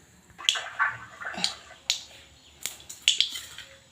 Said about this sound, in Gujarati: રાઈને ફૂટવા દેશું